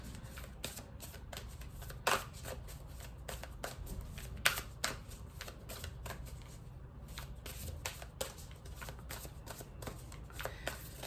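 Tarot cards being shuffled and cut during a reading, a steady run of soft papery riffles and flicks with a few sharper snaps, close by and moderately quiet, with no talking.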